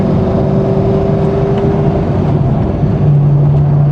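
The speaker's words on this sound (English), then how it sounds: "I'm going to go up to fifth gear." A 2000 C5 Corvette pulls steadily in fifth gear with a loud, sustained engine drone heard from inside the car. Its pitch shifts slightly partway through.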